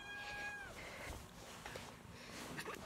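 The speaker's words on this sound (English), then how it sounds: "This is my kitty." A kitten meows indoors, a short high-pitched cry near the start followed by faint rustling and handling noises, quiet and close.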